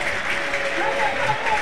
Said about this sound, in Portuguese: Aplausos, ó.